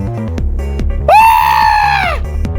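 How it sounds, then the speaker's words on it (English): A loud, sustained high-pitched scream of about one second rises out of a video game soundtrack from a Danganronpa fan game, set over rhythmic plucked music. "To which Mickey let out a loud scream."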